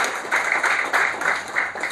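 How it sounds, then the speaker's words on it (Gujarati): Applause from an audience at an entrepreneurship event on food processing, a brief burst of clapping pulsing in uneven waves, moderately loud and with no talk over it. "આ બંનેને આપણે ખૂબ ખૂબ તાળીઓથી વધાવીએ."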